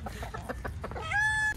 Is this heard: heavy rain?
no